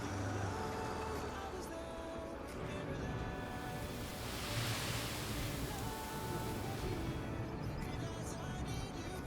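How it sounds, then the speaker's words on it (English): Sand pouring from a dump truck into lake water in a road-building video game, a steady broad rushing wash with engine rumble underneath, swelling in the middle and continuing loud throughout. "I do like the way the sound of the sand goes in the water"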